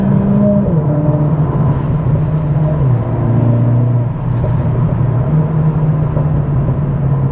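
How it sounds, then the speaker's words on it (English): A Mercedes CLA45 AMG's deep, throaty aftermarket exhaust rumbles steadily, its pitch shifting as the engine revs rise and fall, loud and close, with no talking. "It's so much deeper, so much throatier, and the pops at the back have completely transformed the car."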